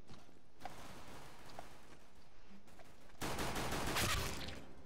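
Gunfire in the video game CS:GO: quiet game ambience with scattered faint clicks, then a loud dense burst of rapid shots toward the end, fairly close and harsh.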